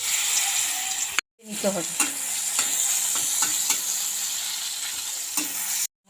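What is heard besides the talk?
mushrooms (chhatu) frying in a hot wok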